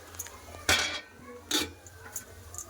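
A metal lid is set down on a cooking pot on the stove, making two or three short, close clanks and scrapes against a quiet kitchen background.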